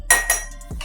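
Clinking glass and utensil knocks, two sharp bright hits followed by a softer thud as a mixture is put into a glass container.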